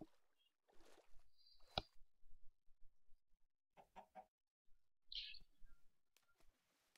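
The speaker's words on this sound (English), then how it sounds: "Someone's been putting chickens up there." Minecraft chickens cluck and chirp in short, scattered calls separated by quiet gaps, with one sharper burst near the middle.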